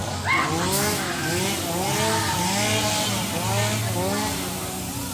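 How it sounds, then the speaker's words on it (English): A chainsaw engine revs continuously nearby at a Halloween event at Six Flags Great Adventure, its pitch rising and falling in repeated surges, loud and steady throughout. "Oh, it does sound like a real chainsaw."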